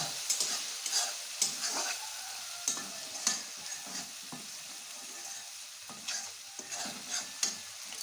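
Red chili and cumin powder stirred in a frying pan while fish masala cooks, a steady soft sizzle broken by repeated scraping strokes of a spoon, close and moderately quiet, with no voices.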